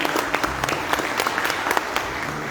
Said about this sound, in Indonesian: Dan juga saya boleh minta tepuk tangannya untuk Pak M. Findra dan juga tim dari Trio Azana Hotel Kebumen